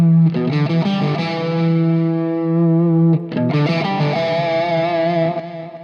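Stratocaster electric guitar through mild overdrive, a touch of drive without much gain, playing a sustained melodic line with bent and held notes, loud and close, with a brief pause midway.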